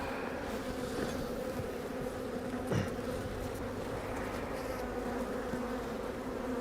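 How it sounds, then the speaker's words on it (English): Honey bees at an open hive hum in a dense, continuous drone that stays steady throughout, with individual bees buzzing past close by and no talking. "These bees are giving off alarm pheromone."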